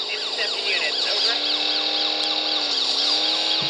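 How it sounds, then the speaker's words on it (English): A police car siren in Need for Speed: Most Wanted wails, sweeping up and down continuously over steady engine and road noise, loud and close throughout. "Siren's really pissing me off."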